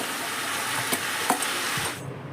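Tomato is stirred into cooked, mashed sweet potato in a pan for a Bengali tomato–sweet potato chutney, with light sizzling under a few soft spatula scrapes before the sound drops away at the end.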